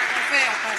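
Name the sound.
audience applause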